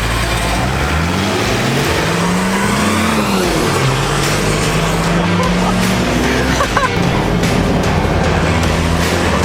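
Two Nissan Patrol 4x4s with TD42 diesel engines, one turbocharged and one naturally aspirated, accelerate side by side, loud droning engines rising in pitch through the gears, close and continuous with faint voices underneath.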